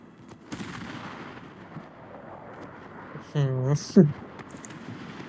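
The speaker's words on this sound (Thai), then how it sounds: "เนี่ยมันยิงอย่างนี้เลยปืนคู่อ่ะ" Naval twin guns fire in the War Thunder game with booming shots and a couple of heavier blasts near the end, over a low rumbling background, while a voice talks through the sequence.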